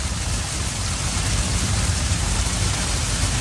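Steady rain pours down on Lunar New Year's Eve around a villa area in Vinhomes, a dense, loud, unbroken hiss of drops hitting surfaces, with nobody speaking.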